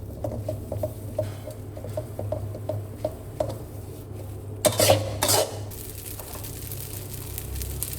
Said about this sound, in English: Continue tossing and flipping until the vegetables begin to wilt.